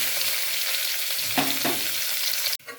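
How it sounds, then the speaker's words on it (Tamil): Chopped onions hit a pan of spices and fry with a steady loud sizzle, a couple of stirring scrapes in the middle, before the sound cuts off abruptly. "இப்போ கட் பண்ணி வச்ச ஆனியன் சேர்த்துக்கலாம்"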